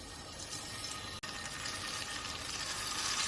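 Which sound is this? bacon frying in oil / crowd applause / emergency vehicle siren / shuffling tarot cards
bacon frying in oil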